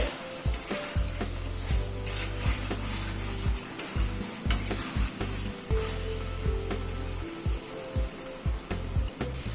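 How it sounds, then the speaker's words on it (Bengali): Chicken sautés in a pan, giving a steady low sizzle with repeated scraping and knocking as it is stirred and turned. A continuous low hum runs underneath. "ঢেকে দিয়ে আর একটু কষিয়ে নিচ্ছি চিকেনটা"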